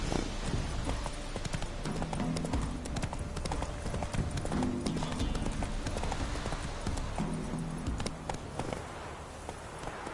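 Roach, Geralt's horse in The Witcher 3, walking with steady rhythmic hoof clip-clops over a constant ambient bed, close and clear throughout.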